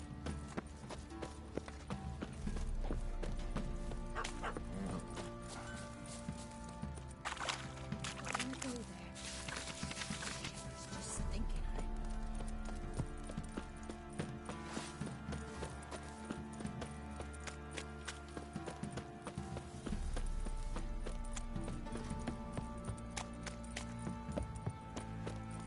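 Horse hooves clip-clop steadily in The Witcher 3 video game over a long stretch, mixed with busy game ambience, music and character voices talking.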